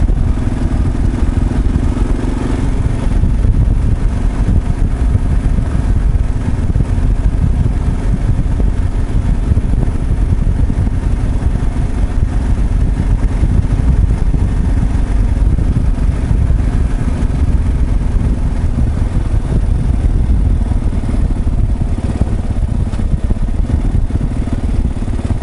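A motorcycle cruises steadily along a smooth road on an Indian summer ride, its engine a continuous low rumble mixed with wind noise, holding a constant level with no pauses.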